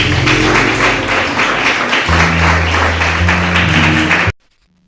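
A church congregation applauds, a dense roar of many hands clapping continuously for several seconds, loud and close, with a low hum underneath, before cutting off sharply into silence.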